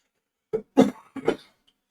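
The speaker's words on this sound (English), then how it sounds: "Tourette's fake coughing and stuff like that" Four short, sharp Tourette's coughs in two quick pairs, close to the microphone against near silence.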